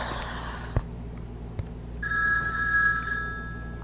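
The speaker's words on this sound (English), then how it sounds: "The phone is ringing, Smithers." A telephone rings with bright electronic warbling tones, stopping and then starting again after a brief pause with a couple of soft clicks between the rings, heard fairly close and clear.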